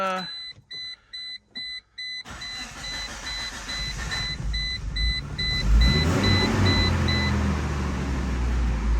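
A Geo Tracker that has sat unused for a long time, its chime beeping in short bursts before the starter cranks and the engine catches, then settles into a loud, rough idle up close.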